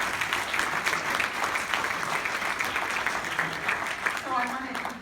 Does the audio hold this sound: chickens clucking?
no